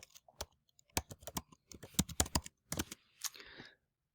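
Quick, close clicks of typing on a computer keyboard, irregular bursts of keystrokes with short pauses between, faint and isolated with no voice.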